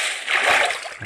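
Water splash in a Minecraft-style villager farm game as something drops into the water, a brief bright splatter over about a second, moderately loud and close.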